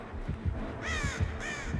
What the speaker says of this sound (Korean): 닥쳐, 까마귀 새끼